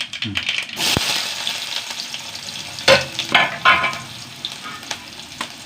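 Mustard seeds and a few small onions frying in hot oil, crackling and sizzling, with sharp pops and clinks of a utensil against the pan at intervals; no talking.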